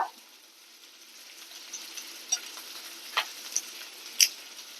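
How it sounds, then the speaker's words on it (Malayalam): Chopped ginger, garlic and curry leaves sautéing in a pan for a tapioca vegetable biryani, a soft, steady sizzle close by with a few small sharp spatters and clicks toward the end. "ഇതെല്ലാം കൂടി നമുക്കൊന്ന് വഴറ്റിയെടുക്കാം"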